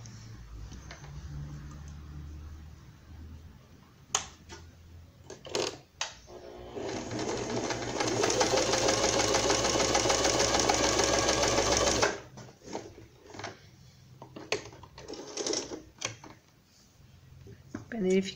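A sewing machine runs a zigzag seam on pet dress fabric: a few short stitching bursts, then one long fast continuous run, with a voice talking between the bursts.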